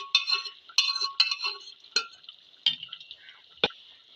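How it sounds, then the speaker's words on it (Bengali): A spoon stirs pre-boiled chana dal in a cooking pot for a lentil dish with bottle gourd and mutton fat, giving a series of close scraping strokes with bright metallic clinks, about six distinct pushes, with no talking. "ভালো করে একবার নেড়ে দেবো।"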